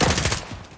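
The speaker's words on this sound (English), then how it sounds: "Somebody else shooting at us." A brief, loud burst of rapid automatic gunfire from the Call of Duty: Modern Warfare video game, several quick cracks in succession, close and dense, fading out within a second without any voices.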